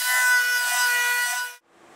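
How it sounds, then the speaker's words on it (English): A shrinking disc grinds against a Triumph Spitfire steel body panel, giving a loud, steady high-pitched whine with harsh friction that stops abruptly near the end. "use the shrinking disc and try to take care of that"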